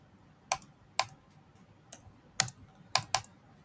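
Sparse keystrokes on a computer keyboard while code is typed, six crisp clicks spaced irregularly over a few seconds, close and clear with no talk.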